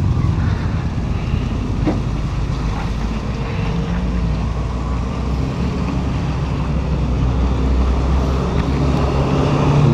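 A Yamaha Nmax V3 scooter being ridden, a steady low engine drone mixed with heavy wind rush against the microphone, close and continuous with no talk.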